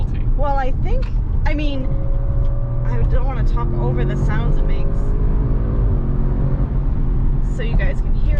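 A 2021 Audi RS6 Avant rumbles low and steadily while driving, a constant engine drone in the cabin running beneath people talking throughout.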